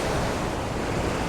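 Rushing water at Tokul Creek waterfall in Washington: a steady, dense roar that stays close and loud without any break.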